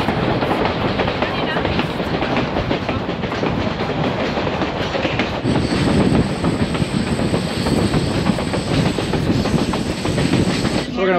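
Grand Canyon Railway passenger train rolling along at steady speed, a dense continuous rumble with clickety-clack of wheels over rail joints and a faint high hiss, loud and close throughout.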